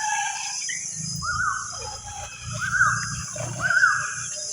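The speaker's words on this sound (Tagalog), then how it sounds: "At saka ang ingay ng ibon." Birds call and chirp in a garden of bonsai plants, a few clear repeated rising phrases standing out over a steady high insect-like hiss and low rumble, moderately close.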